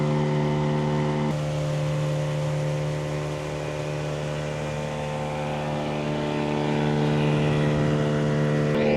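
Boat engine running steadily on open water near an island, a loud continuous drone with strong harmonic hum that holds throughout and swells slightly toward the end.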